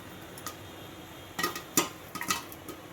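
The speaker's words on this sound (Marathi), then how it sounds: "आता एक एक पॉपकॉर्न आता फुलायला लागलेला आहे." Popcorn kernels pop one at a time inside a covered pan on the stove, giving a handful of sparse, light pops and small clusters spaced irregularly over low background hiss.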